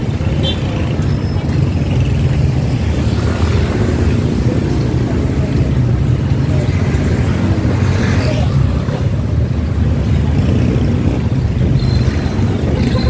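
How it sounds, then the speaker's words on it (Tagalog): Street traffic with cars and trucks on a hot day, a steady loud rumble of engines and tyres close by with a broad, constant wash of noise and no clear pauses. "Medyo traffic yan."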